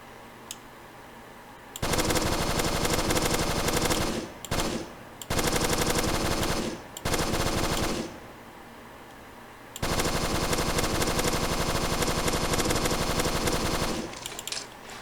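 Bursts of automatic gunfire from a zombie apocalypse video game come in long sustained rattles separated by short pauses, loud and steady against a quiet background.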